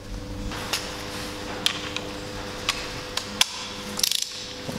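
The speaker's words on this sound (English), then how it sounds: "we're now going to tap it to a M10" Sporadic metallic clicks and scraping ticks from a hand tap cutting an M10 thread into metal, over a steady background hum, ending in a quick rattle of clicks.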